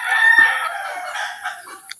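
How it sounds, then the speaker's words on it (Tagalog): Chickens nearby let out a loud, close crow and squawks, a drawn-out rooster call followed by fainter clucking, with no talking. "medyo maingay lang yung manok dito guys"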